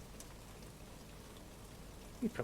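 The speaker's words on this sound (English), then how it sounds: "Sound the rain drumming on the roof, sending you off to sleep." Rain drumming on a roof, a steady faint patter of drops with a couple of slightly louder taps near the end, heard from indoors.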